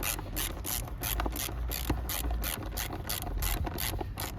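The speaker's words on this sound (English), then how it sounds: "We then get a 7mm socket just to be able to" A ratchet with a 7mm socket tightens a fitting on a 1.4 Vauxhall Astra J, making a quick, regular run of close clicking strokes that keeps going throughout.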